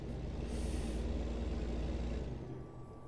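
A heavy truck in American Truck Simulator brakes hard: a deep, steady engine rumble with a sharp air-brake hiss early on, then the rumble eases and fades toward the end.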